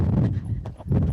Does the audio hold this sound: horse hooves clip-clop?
yes